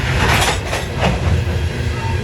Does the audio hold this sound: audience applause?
no